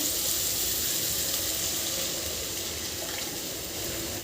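Dissolved tamarind water, from a lemon-sized piece soaked beforehand, is poured into a pan for a lentil-ball kuzhambu, making one continuous close splashing pour that ends abruptly.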